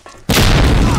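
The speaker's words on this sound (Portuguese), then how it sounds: "Deu dano a granada." A grenade blast in a multiplayer shooter game erupts suddenly after a quiet moment, a loud close boom with a sustained roaring rumble that fills the rest of the brief moment.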